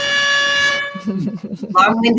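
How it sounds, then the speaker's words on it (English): A restaurant's loud, blaring air horn sounds for under a second, then people start talking and laughing nearby. "That's the air horn for the restaurant."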